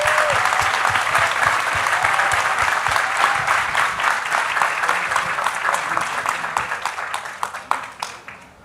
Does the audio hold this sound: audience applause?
yes